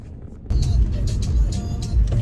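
A car starts moving after a brief quiet moment, its steady low engine and road rumble heard from inside the cabin, fairly loud and continuous.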